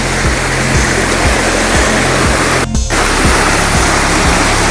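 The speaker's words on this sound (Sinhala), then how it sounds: "ගැම්මට තියෙනවා වතුර යනවා මේ පැත්තෙන්" Water rushes steadily through a large spillway at a rural dam, a loud, continuous broadband roar close by with a faint repeating low thump underneath.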